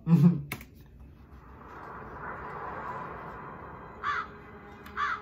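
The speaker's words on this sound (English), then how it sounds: "Okay, CGI bird." A computer-generated crow caws once loudly at the start of the Hocus Pocus 2 teaser trailer, followed by ambient rumble and a couple of short, fainter clicks.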